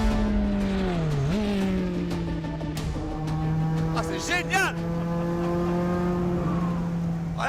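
A period factory-built Maxi Turbo race car is driven hard, its engine note climbing and dropping through gear changes with strong harmonics. Someone speaks French excitedly over the steady roar.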